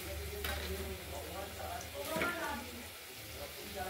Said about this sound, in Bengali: আমাদের এই চাল কুমড়োগুলো এক পিঠ যেই ভাজা হয়ে যাবে আমরা উল্টে দেবো